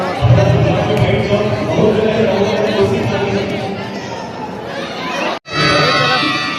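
A large, dense crowd of fans, many of them children, chattering and shouting at a film star meetup in Raipur, a loud, continuous din with a brief cut near the end.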